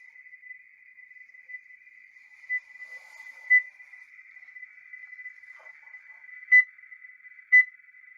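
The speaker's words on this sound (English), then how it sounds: "So now it's in search mode, looking for another beacon, and it just picked it up. You can see it showing the distance with the beeps." An avalanche beacon in search mode emits a steady high electronic tone with sharper beeps standing out at intervals, fairly clear and alone, at a backcountry skiing site.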